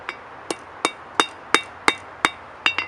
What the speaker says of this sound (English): You just need to hit it on 2 sides because the anvil will hit it on the other side.